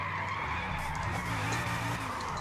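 A 1,183 hp Bugatti Veyron drift build slides through a drift in Forza, its tires skidding in a continuous squealing hiss over a steady engine drone, loud and close, with no talking.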